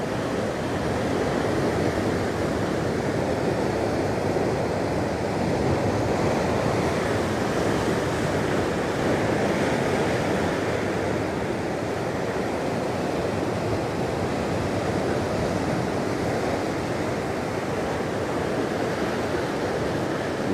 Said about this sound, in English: You can see these waves are rolling in slowly but surely.